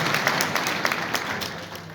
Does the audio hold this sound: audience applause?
yes